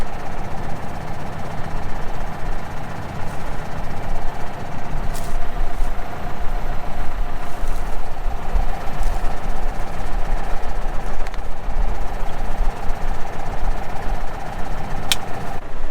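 A tractor engine runs steadily from inside the cab, a loud, constant low rumble and drone with occasional faint clicks and rattles, and no one speaking.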